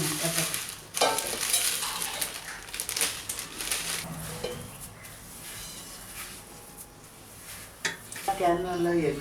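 Jaggery dough for Ariselu sweets being stirred and mixed in a vessel, with scraping, clattering strokes and bumps of utensils against the pot, while people talk at intervals.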